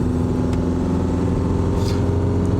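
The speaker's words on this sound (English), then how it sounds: "Have a listen to your engine. It needs to go." A car engine hums steadily from inside the cabin during a driving lesson, a low, even drone that stays constant throughout with no one speaking.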